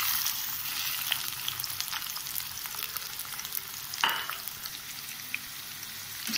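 Sliced onions frying in hot oil for a beef vada make a steady, close, crackling sizzle throughout, with a brief louder burst of hissing partway through.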